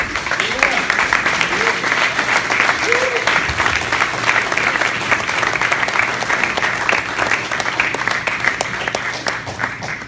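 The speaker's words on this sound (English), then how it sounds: "can we please give everyone in this room who applied to do a project a big round of applause?" Sustained, loud audience applause fills a room at a community neighbor program, with dense even clapping throughout and a few voices calling out beneath it.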